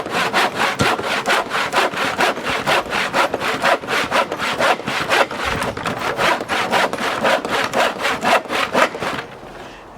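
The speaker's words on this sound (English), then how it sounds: "still cutting by hand" Handsaw cutting through wood during off-grid roof work, with fast, steady back-and-forth rasping strokes, loud and close, ending in a brief quieter pause.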